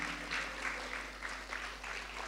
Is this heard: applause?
yes